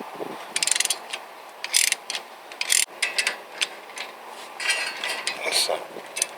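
Ratchet tightening bolts during a car brake change, heard as bursts of close metallic clicking and rattling separated by short pauses, with quiet mechanical handling noise between them.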